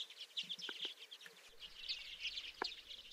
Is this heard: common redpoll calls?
yes